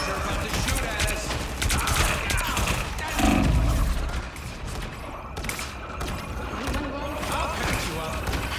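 Gunfire in a Fortnite video game match, a dense fusillade of rapid shots mixed with game effects and background noise, with a louder burst near the middle.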